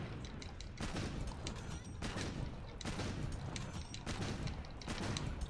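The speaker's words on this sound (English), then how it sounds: "I can just keep shooting and reloading" A heavy bowgun fired and reloaded in Monster Hunter World, a quiet run of evenly spaced sharp shots about once a second over a low rumbling background, with mechanical clicks between them.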